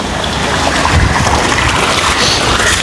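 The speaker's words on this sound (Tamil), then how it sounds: "அப்படியே தண்ணி வந்து பாருங்கள் அப்படி போகுதுண்டு." Irrigation water flows steadily through a cassava field in Jaffna, a loud continuous rushing wash with rough, noisy turbulence, unbroken and close to the microphone.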